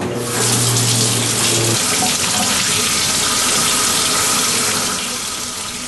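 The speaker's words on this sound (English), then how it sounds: "Turn the cold water on." Cold water tap in a kitchen turned on and running, a loud steady gushing stream into a sink that starts abruptly and continues evenly, with a brief tonal hum fading early on.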